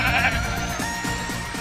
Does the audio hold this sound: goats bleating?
yes